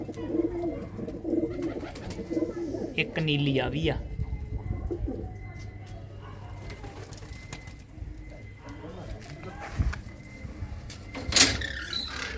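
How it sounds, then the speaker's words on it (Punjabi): Male and female chap pigeons coo softly at intervals in their loft, with low, rounded calls close by. People talk over the cooing, and a few sharp knocks are heard near the end. "ਇਹ ਕਬੂਤਰੀਆਂ ਨੇ ਤੇ ਦੂਜੀ ਸਾਈਡ ਜਿਹੜੇ ਉਹ ਕਬੂਤਰ ਨੇ"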